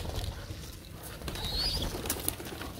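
Pigeons feeding on scattered grain coo softly while wings flutter and seed patters nearby, a low, steady outdoor murmur with a brief higher chirp near the middle.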